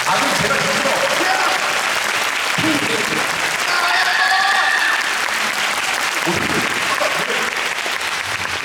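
Audience at a concert applauding, a dense, loud and sustained wash of clapping that holds steady throughout, with faint voices from the crowd.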